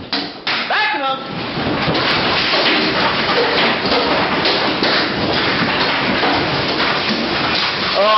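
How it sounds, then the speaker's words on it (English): Hail pounds a house in Iowa during a storm, a loud, dense, continuous roar of impacts with scattered sharper thuds, while excited voices shout over the din near the start. "A hailstorm wreaks havoc on a house in Iowa."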